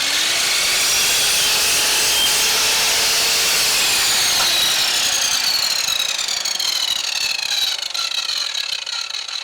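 A VONROC MS507AC mitre saw cuts through wood in a loud, continuous whining rasp, with the blade's pitch sliding and shifting as it bites through the board, close and uninterrupted.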